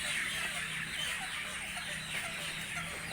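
A mass of chickens clucking and squawking as they are unloaded from a truck, a dense continuous din of many birds close by with no talk.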